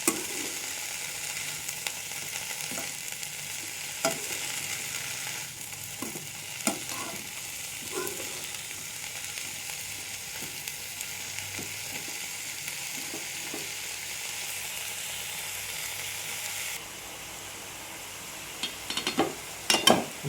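Broad beans with onion and curry leaves sautéing in a pan, a continuous soft sizzle with scattered clicks and scrapes of stirring throughout, close but moderate in volume, with no voices.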